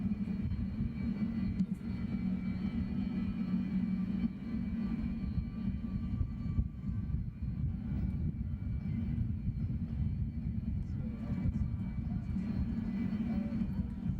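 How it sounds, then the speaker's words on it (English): A Sukhoi Su-27 jet taking off at a military spotters day at Kleine-Brogel air base, a loud, sustained low engine roar that holds steady throughout with no voices. "And here we go with the Su-27. Blue. And this one's now taking off."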